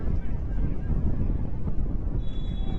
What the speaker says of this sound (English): Really gusting here.